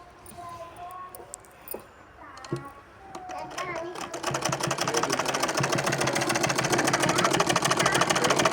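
A homemade sewing machine starts up partway through and runs in a rapid, steady mechanical chatter while stitching a salwar suit, preceded by scattered clicks and a voice speaking softly.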